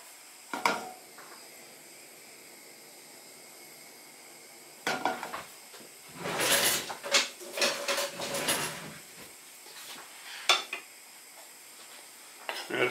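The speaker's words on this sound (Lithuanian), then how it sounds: "Ir pakepam krūtinėlę." Chicken breast frying in a little oil in a hot pan, with soft sizzling joined by scattered clatters and scraping of a utensil against the pan in bursts.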